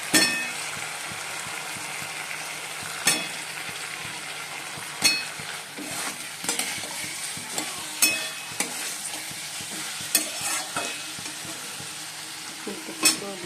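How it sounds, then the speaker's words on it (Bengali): Potatoes sizzle steadily as they fry in a pan of cooked-down spiced masala, with a spoon stirring and clinking against the pan every few seconds, close up and without speech. "মশলাটা কষানো হয়ে গেছে, আলুগুলো দিয়ে দেবো।"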